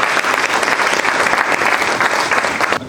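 An audience at a national moot competition claps in a sustained, dense round of applause that stays loud and steady before cutting off sharply at the end.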